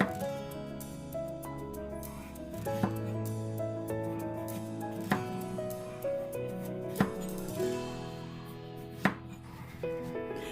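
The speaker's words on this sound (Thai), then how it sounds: "เราจะหั่นพอดีคำนะคะ ไม่เล็กจนเกินไปและไม่ใหญ่จนเกินไปค่ะ" A knife chops a young winter melon into bite-size pieces on a cutting board, sounding as a series of distinct, evenly spaced knocks against the board, with no talking.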